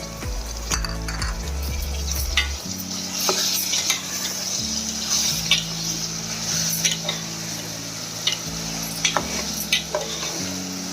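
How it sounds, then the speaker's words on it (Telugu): Chopped tomatoes are tipped into a hot frying pan with brinjal and stirred, giving a soft sizzle under repeated scraping and clinks of a spoon against the pan, close by. "2-3 టమాటాలు తీసుకొని యాడ్ చేసి"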